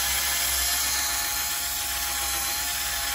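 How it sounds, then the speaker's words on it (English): A drill fitted for polishing works over a matte car door pillar, giving off a steady, close, high-pitched whirring hiss with no pauses or voices. "Keep the drill at a consistent angle"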